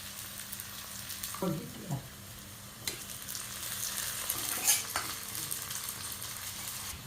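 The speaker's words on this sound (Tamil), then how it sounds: "கொஞ்சம் ப்ரௌனாக வரணும் வெங்காயம்." Onions sizzling in a pan until brown, a quiet steady frying hiss broken by a few stirring scrapes and light clinks.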